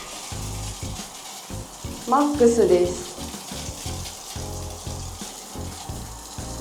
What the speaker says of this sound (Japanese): これは下にひねるとシャワーが出ます